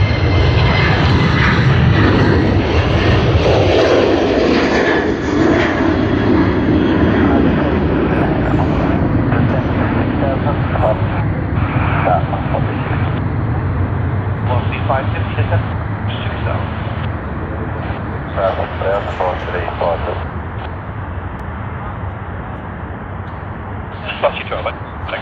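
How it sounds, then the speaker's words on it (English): A Garuda Indonesia jet on the Sydney to Jakarta run, decorated in Pokemon livery and ten years old, roars steadily at Sydney Airport for the whole stretch, loud and broadband, while someone talks over it in the later part. "Garuda Indonesia GA713 Sydney to Jakarta on the Pokemon livery"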